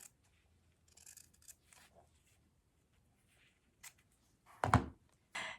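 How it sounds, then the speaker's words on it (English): Scissors snipping through a fabric patch along a marked line while sewing a patchwork Christmas stocking ornament: a few quiet, scattered snips and handling rustles close by, with one louder crunch near the end. "Now I'll cut this on the line, making sure I don't cut through the foundation, of course."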